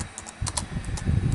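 Light, irregular clicks on a 1999 Macintosh PowerBook G3 laptop keyboard tapped out slowly and unevenly with one hand, close by, with a low rumble of handling noise underneath.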